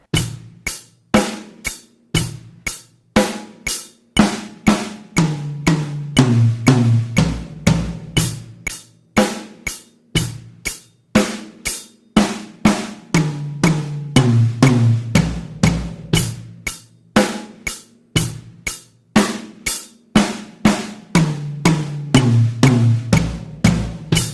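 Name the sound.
drum beat with eighth note fill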